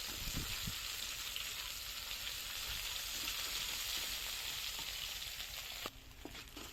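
Dok khae flowers stir-fried with shrimp paste in a hot pan give a steady, close sizzle that runs throughout with faint scraping of stirring, quieting briefly near the end.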